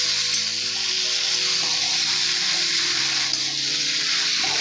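Chopped tomato and green peas frying with vegetables in a pot for vegetarian khichuri, a continuous even sizzle with soft stirring, close and steady with no talking.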